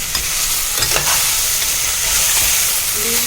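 Beetroot fries in a pan with a steady hiss and sizzle, while a spoon scrapes and stirs through it in repeated strokes, close up and uninterrupted.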